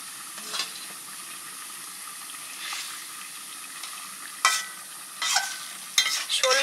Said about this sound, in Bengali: ঝোল ফুটে গেছে, এবার মাছগুলো দিয়ে দিচ্ছি।